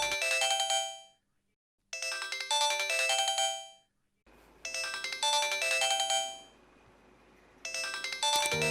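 A melodic mobile phone ringtone plays loud and close for an incoming call, repeating in four bursts of bright electronic chimes separated by short pauses.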